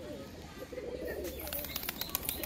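Pigeons kept for flying coo softly at close range, with a steady low murmur and a few higher chirps and wing rustles toward the end.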